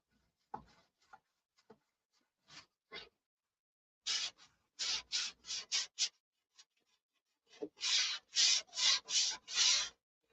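Hand sanding of a surface before a coat of DX, heard as short rubbing strokes, a few sparse scrapes at first, then bursts of rapid back-and-forth passes in two groups, close and fairly loud with no talk.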